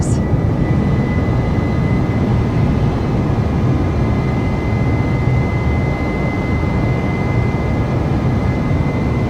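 Airbus A320 jet engines roar steadily through the takeoff climb, a loud, dense broadband rush with a faint high whine running underneath and no break in level.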